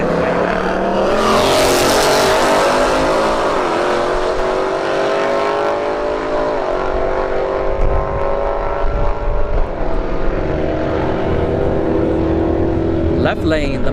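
A Porsche Cayman and a Mustang drag race: a sharp loud launch, then engines climbing steadily through repeated upshifts, close and roaring before tapering off down the strip, with a voice faintly underneath.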